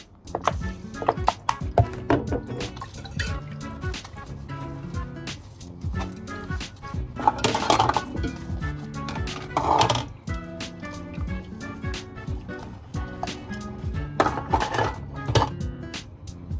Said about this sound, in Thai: ล้างจานล้างหม้อไว้แล้วนะคะ